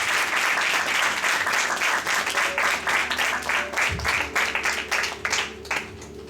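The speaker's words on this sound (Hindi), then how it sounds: "तो आइए एक बार फिर जोरदार तालियों से खुदावंद की शान को नमन करेंगे।" A church congregation applauds loudly during a Sunday service, steady dense clapping filling the room for several seconds before thinning out near the end.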